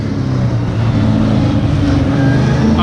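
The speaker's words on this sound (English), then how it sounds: "Drift racing's a lot of fun being right here, having to go by." Drift race cars roaring past at a speedway, heard from close trackside as a loud, continuous engine rumble with a rising revving tone toward the end.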